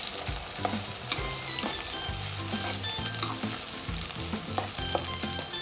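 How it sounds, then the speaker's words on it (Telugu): Green chilies and onion frying in hot oil, a loud continuous close-up sizzle and crackle with scattered pops and the occasional scrape of stirring, no voices. "నూనె కాయాక పచ్చిమిర్చి వేసుకోవాలి."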